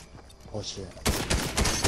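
Gunfire in Fortnite, with rapid, loud automatic bursts erupting midway after quieter shots, while a voice talks over the start.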